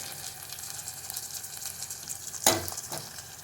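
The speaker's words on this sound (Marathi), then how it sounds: "आता याला चांगलं परतून घेऊया" Onion, tomato and coriander sautéing in a pan over a low-to-medium gas flame, a steady soft sizzle with stirring scrapes and one sharp clattering stir near the end.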